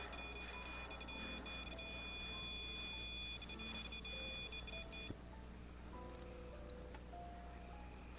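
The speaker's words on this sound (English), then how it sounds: "REM pod's going off." A REM pod paranormal detector alarm gives steady electronic tones for about five seconds, then stops, leaving faint background noise during a ghost hunt at a bridge.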